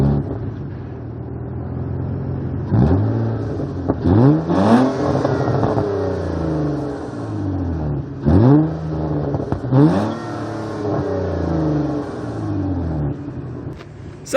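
A Nissan Altima fitted with a Magnaflow resonator settles into a steady idle, then gets two sharp revs that climb and fall back, heard close from behind the car with no talking.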